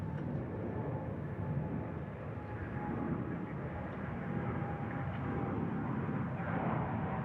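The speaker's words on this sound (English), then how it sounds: "There goes the Dreamliner off to Tokyo Haneda." Boeing Dreamliner taking off at DFW International Airport bound for Tokyo Haneda, a steady distant jet roar with a faint whine, continuous and fairly quiet throughout.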